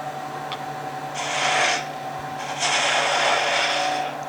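A small spindle gouge shaping spinning wood on a lathe, giving two sustained rasping cuts of about a second each over a steady motor hum.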